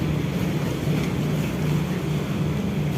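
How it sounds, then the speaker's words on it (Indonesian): Sea waves churn in strong wind at Bakauheni harbour at night, a loud continuous wash and rumble with a steady low engine-like drone from nearby boats. "Dan ini untuk ombaknya ya,"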